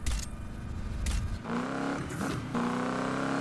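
Hot rod car in Need for Speed 2015 driving, engine note shifting as it revs and settles into a steady drone with a brief whine midway, no talking.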